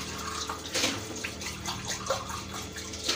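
Water poured into a bowl holding vinegar and dissolved salt while preparing a chicken dish, giving a short splashing, trickling pour with small bursts of liquid noise and no speech.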